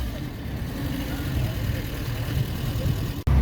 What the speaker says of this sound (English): Sounds like it's got throttle bodies on it.